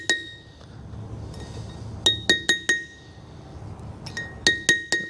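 Metal chisel taps seating a trailer wheel bearing race, sharp bright clinks in two quick bursts of four or five strikes each, close and loud over quiet background.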